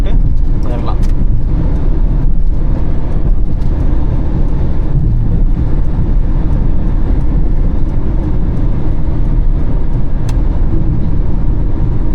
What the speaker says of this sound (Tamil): இப்போ ஒரு கியர் டவுன் பண்ணுறேன், இப்போ நல்ல பிக்கப் கிடைக்கும், வேகமாக ஏறும்.